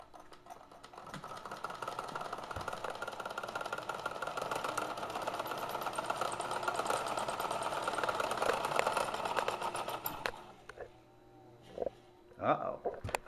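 A Kenmore sewing machine fitted with a 3/4 HP replacement motor runs at speed, a steady fast mechanical whir with rapid ticking that holds for about ten seconds, then cuts out, leaving a few brief bumps and low sounds.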